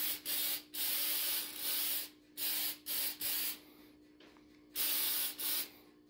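An aerosol can sprays paint onto a tank in repeated hissing bursts, each lasting a fraction of a second to about a second, separated by brief pauses, close and steady with a faint hum underneath.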